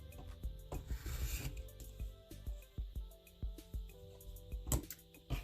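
A rotary cutter trims a fabric star point against a ruler on a quilt block, producing a close, brief rasping rub followed by a string of small scraping ticks.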